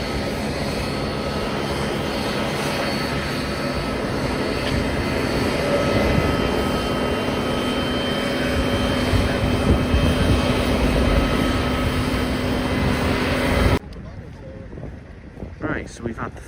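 Heavy military transport aircraft, a C-5 and a C-130, arriving at the RIAT military airshow: a loud, sustained engine roar with wind buffeting that suddenly drops away to quieter background near the end.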